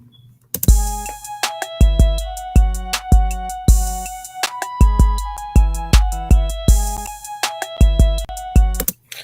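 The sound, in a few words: trap beat with layered claps, made in Soundtrap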